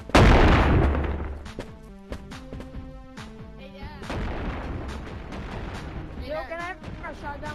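Shotgun fire in the Animal Company video game, with one loud blast at the start followed by several sharper shots and a stretch of echoing game noise.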